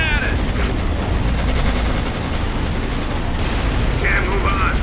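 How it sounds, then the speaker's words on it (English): Dense, continuous battle gunfire from the WWII strategy game Codename Panzers: Phase One, loud and unbroken with rattling shots and booms, plus brief unit voice callouts over the din. "They're shooting at us!"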